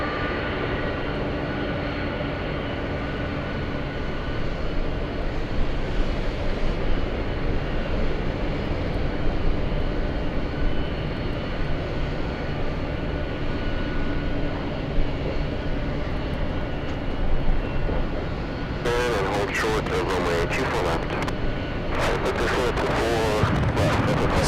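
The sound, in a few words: airplane at Los Angeles airport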